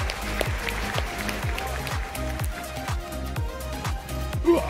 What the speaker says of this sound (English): A big round of applause once again, ladies and gentlemen